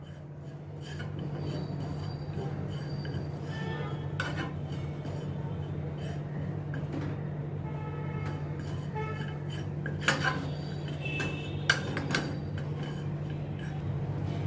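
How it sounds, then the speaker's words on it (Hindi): Gram flour (besan) is roasted in a pan and stirred with a spoon, giving soft scraping and clinks of utensil on metal over a low steady hum, with a few sharper knocks near the end and no talk. "बेसन को भी इसके साथ मैं रोस्ट करती हूँ।"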